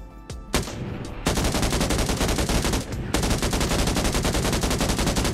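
PKM machine gun in PUBG fires long rapid bursts with a brief pause between volleys, loud, close and sharp, with no talk over it.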